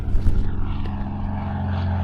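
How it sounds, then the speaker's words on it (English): A propeller airplane coming in to land at Sedona Airport, its engine droning loud and steady close by, with a low hum throughout. "another plane's coming in?"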